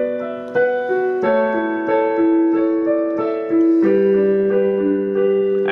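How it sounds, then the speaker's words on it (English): Piano playing the intro of a song, a clear solo melody of sustained notes over held lower chords, moderately loud and close with no voices. "First up, we're going to be playing the intro, which sounds like this."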